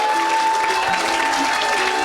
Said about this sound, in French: Donne une acclamation.